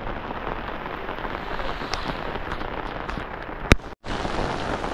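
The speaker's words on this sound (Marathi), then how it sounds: "बघा पाऊस बघा किती आहे." Heavy monsoon rain pours down steadily over village farm fields, a dense, loud hiss of drops throughout, broken by one sharp crack near the end and a brief dip.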